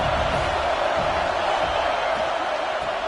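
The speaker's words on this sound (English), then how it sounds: "3rd down, and the crowd really getting into it." A packed football stadium crowd at a USC versus Texas game roars on third down, a dense, steady wash of noise that never dips.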